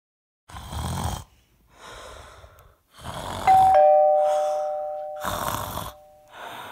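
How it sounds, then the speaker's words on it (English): A doorbell chimes in a quiet room, its clear ringing tones standing out between soft breathing and snoring-like sounds, loud and close with no talk. "I heard the doorbell."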